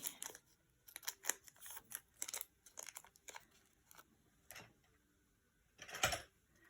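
Scissors snip through paper scraps to cut out a heart shape, a series of short crisp cuts and crinkles close up, with quiet gaps between.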